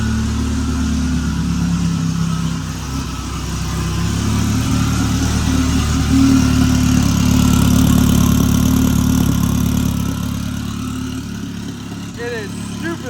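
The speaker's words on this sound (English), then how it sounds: "We'll let it run for a few minutes here, get some temp back in the engine." A Subaru drag car engine idles loudly and steadily close by while warming up, a deep, rumbling drone that swells slightly in the middle and never stops.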